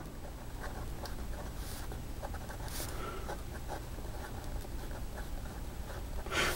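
A Pilot Custom Heritage 92 fountain pen with a fine-medium nib writes on paper, a faint continuous scratchy scribble with small strokes and lifts, heard close and alone.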